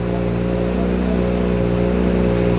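Colin McRae's Ford Focus WRC rally car engine idling close by, a loud, steady, deep throbbing drone with a strong harmonic hum, unchanging throughout and without talk.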